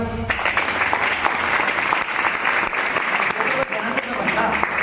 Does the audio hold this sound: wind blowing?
no